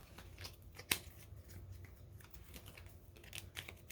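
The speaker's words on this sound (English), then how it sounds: "Oh, I didn't finish shuffling. Let me do that." A deck of tarot cards is shuffled close by, soft riffling and brushing with one sharp snap, quiet and with no voice.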